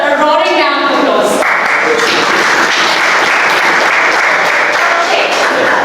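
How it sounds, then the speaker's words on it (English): Loud, sustained clapping from a Toastmasters meeting audience for a guest volunteer, a speaking voice trailing off at the very start before the applause fills the room at a constant, dense level. "Deserves a roaring round of applause."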